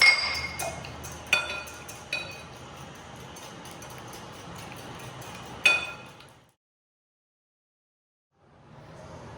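Eggs and turmeric whisked in a bowl with quick metal-on-glass clinks and taps, a few sharper knocks standing out, then a sudden silence before faint rustling returns.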